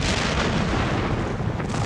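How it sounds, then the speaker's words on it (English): A dense, continuous rumble of massed artillery fire at the Battle of Gettysburg, heavy booms blending into a roaring barrage that fills the whole moment without pause or voices. "a giant artillery barrage intended to soften up the Union defenses before the attack began with a deafening explosion"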